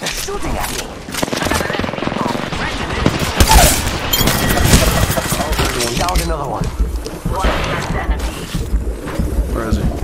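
Rapid video game gunfire bursts with loud booms, heard in a shooter match while a player talks over the action throughout.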